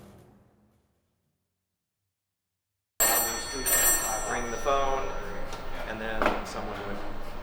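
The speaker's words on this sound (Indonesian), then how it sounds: "Sambungan telepon tahun 1950-an menjadi salah satu teknologi masa lalu yang bisa dicoba pengunjung" After a few seconds of near silence, a 1950s telephone bell at the Connections Museum in Seattle rings with a bright metallic jangle, mixed with voices talking nearby.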